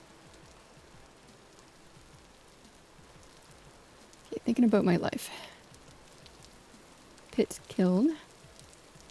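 Soft, steady rain hiss in the Vintage Story survival game, faint and continuous in the background while someone talks briefly twice.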